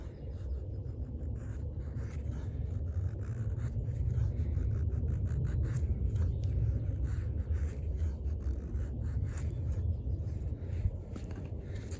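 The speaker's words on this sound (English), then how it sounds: "I'm just going to make a nice thin flat curl with this knife if I can." An Oerla OLK-035PK drop-point knife with a 420HC steel blade shaves thin, flat curls from wood, producing a close, continuous dry scraping rasp with a quick run of repeated strokes, and no speech.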